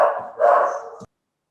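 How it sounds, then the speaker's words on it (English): A dog gives a short bark-like yelp followed by a longer whining bark, close and fairly loud, ending abruptly after about a second, with no speech. "is that your dog?"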